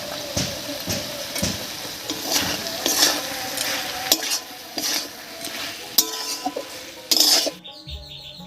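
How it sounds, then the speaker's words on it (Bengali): A spoon stirring spinach chachchari in a pan after raw mustard oil, sugar and cumin powder go in, with repeated scraping and clinking over a soft sizzle, close and steady, with no talking. "এবারে ওপরে 1 চামচ কাঁচা সর্ষের তেল দিয়ে ভালো করে মিশিয়ে নেব"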